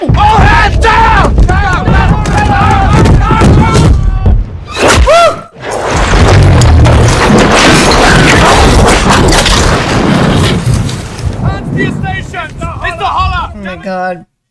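Cannon fire from naval warfare in the 2003 film Master and Commander: loud repeated booms and cracks across a dense battle soundtrack, with shouting voices and talk running throughout.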